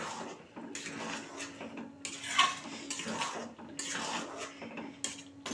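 Slit green chilies tumbling into a pot of shyama rice khichuri, giving scattered clinks and scrapes of utensils against the pot over a steady low kitchen hum, with one brighter metallic clink standing out near the middle.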